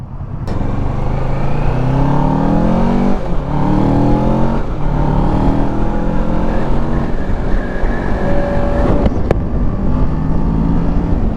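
A 2019 Kawasaki Ninja 650 parallel-twin motorcycle pulls hard through its gears, engine pitch climbing and dropping with each shift across a long run, loud and close with steady wind rush and no talk.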